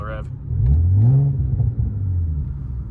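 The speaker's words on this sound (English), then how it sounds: "There's a C8 right here. It's pretty nice. Give him a little rev." Chevrolet Corvette C8 engine revving nearby, a single rising-and-falling rev that swells loud then settles into a rumbling idle, with a voice speaking over part of it.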